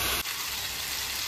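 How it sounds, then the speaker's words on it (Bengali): Shrimp frying in a pot, a dense steady sizzle that starts after a brief louder burst, close and continuous. "চিংড়ি মাছটা আমার ভাজা ভাজা হয়ে গেছে"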